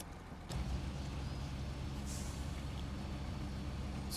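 A truck engine in the off-road driving game SnowRunner labors steadily while being winched and yanked by a crane, a continuous low rumble with a brief hiss near the start and end.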